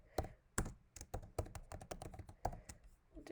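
Quick typing on a computer keyboard while formatting a table in Google Docs, a close, irregular burst of crisp key clicks with short pauses between them, no speech.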